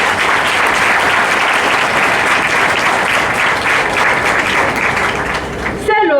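A graduation ceremony audience claps for its graduates, a dense, loud and continuous round of applause that carries on unbroken and ends in a short trailing sound.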